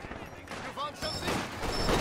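Heavy machine gun fire in a Company of Heroes 2 4v4 battle, rapid bursts mixed into a busy battlefield din with shouted voices over the top, growing louder toward the end.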